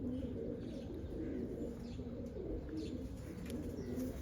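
A flock of kept flying pigeons coos in a steady, low, overlapping murmur close by, with occasional faint chirps above it.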